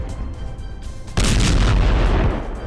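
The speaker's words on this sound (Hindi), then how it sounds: "रूस ने यूक्रेनी सेना पर ताबड़तोड़ गोलीबारी की।" Russian artillery fires on Ukrainian positions: a single heavy boom erupts after a low rumbling background and rolls on as a sustained, loud blast for over a second before fading.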